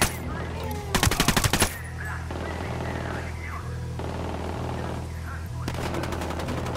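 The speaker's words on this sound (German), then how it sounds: "Diese Sicarios ballern den Sender." Rapid automatic gunfire from cartel sicarios shooting at a transmitter in Ghost Recon Wildlands, a loud burst of closely spaced shots near the start, then quieter scattered shots and a second burst at the end over a low steady hum.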